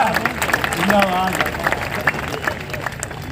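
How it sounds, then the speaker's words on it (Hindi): A live audience claps at a stage show, with scattered sharp claps and crowd murmur while voices talk and shout over it. "जोरदार ताली बजा के बताइए"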